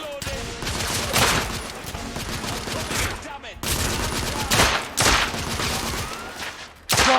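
Rapid gunfire and heavy shotgun blasts in The Order: 1886, a dense continuous fusillade of loud bursts with sharper booms at intervals across the whole span, under shouted combat voices.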